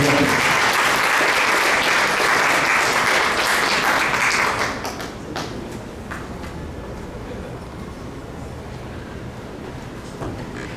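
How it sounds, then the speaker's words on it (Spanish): Loud, dense audience applause at a book presentation fills the room, then tapers to a softer, steady clapping that carries on to the end. "Fuerte aplauso, por favor, para el señor."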